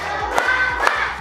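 Classroom of pupils doing the tepuk semangat rhythmic clapping game, with two sharp group claps landing in a steady beat over a hum of room noise and no talk.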